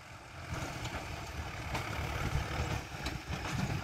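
A Zetor 6714 tractor engine running while it tills and levels earthen ground, a steady close diesel rumble with small fluctuations and no talk.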